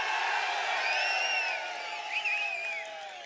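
Crowd at an ADMK political rally in Dindigul cheering and whooping, sustained and somewhat distant, with rising whistles and shouts above a steady roar.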